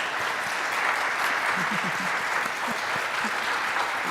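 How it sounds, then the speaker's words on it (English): Steady, full applause from the congregation at a church annual meeting, a dense even wash of clapping with a few faint voices underneath. "we all owe her a huge round of applause."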